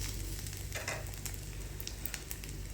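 Food fries in oil in an old pan, a steady close sizzle and crackle continuing without a break, with faint scraping and light ticks over it and no talking.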